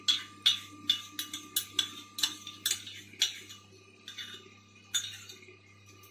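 A metal spoon clinks repeatedly against a cooking pot while yogurt is stirred into chicken curry, with sharp, irregular taps roughly every half second and no talk.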